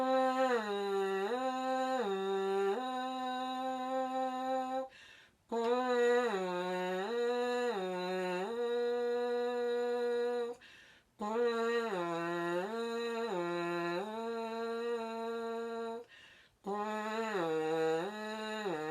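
A French horn plays a warm-up of repeated descending perfect-fifth patterns, clear sustained tones stepping down in four phrases separated by short breaths, alone and close.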